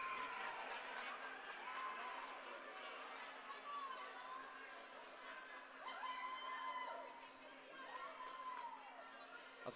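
Hockey arena crowd roaring, cheering and screaming as players trade punches in a fight, a dense sustained wall of voices and whistles, with a commentator talking over it.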